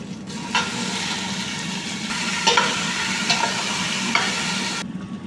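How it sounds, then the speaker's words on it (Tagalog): Tomato sautéing in a pan as the base for a fish soup, a dense continuous sizzle close up with a few light utensil taps and scrapes. "Gisa lang sa kamatis."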